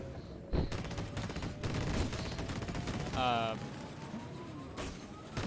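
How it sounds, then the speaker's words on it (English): A core explosion in the video game Disintegration erupts as a dense burst of crashing, rattling blasts and gunfire-like cracks, loud and continuous with a brief whine mid-way. "let's see this explosion"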